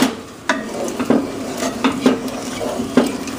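A spoon stirs chili in a pot with a gentle sizzle underneath, giving repeated clacks and scrapes against the pot in an uneven rhythm, close by and with no talking.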